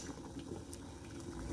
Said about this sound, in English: So I'm gonna put the potato into boiling water, and I'm just gonna let the potato boil.